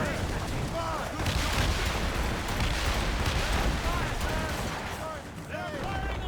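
Mortar and cannon fire on a sailing ship in Assassin's Creed Rogue arrives as a dense barrage of booming blasts and crackling shots over a constant battle roar, with voices shouting over it.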